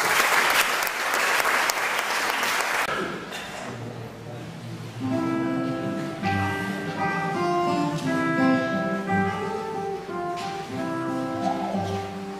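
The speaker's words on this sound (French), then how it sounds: "je les appelle et vous les applaudissez" Applause from a concert audience for a Celtic harp and guitar duo, a dense burst of clapping for about three seconds that fades as plucked harp and guitar notes begin and carry on alone.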